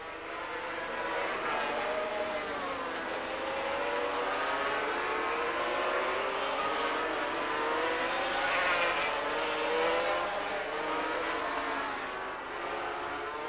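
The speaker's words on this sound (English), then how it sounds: "Hard bikes to ride, very snappy when you open the throttle." A pack of 500cc Grand Prix two-stroke racing motorcycles from the 1987 Spanish Grand Prix scream past at full throttle, a dense, continuous high-pitched engine roar with rising and falling pitch sweeps.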